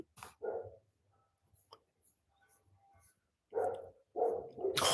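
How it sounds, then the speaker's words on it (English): A dog barks repeatedly in short bursts at moderate distance, with quiet gaps between the barks and a final cluster of rapid barks. "Oh my god, that dog does not shut up."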